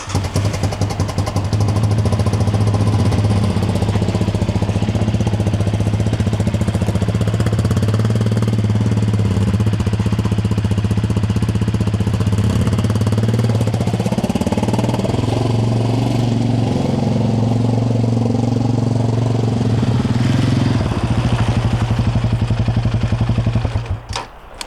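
A Yamaha Raptor ATV engine runs loud and steady while being ridden along a trail, with a constant low drone, some throttle shifts near the middle and a cutoff at the very end.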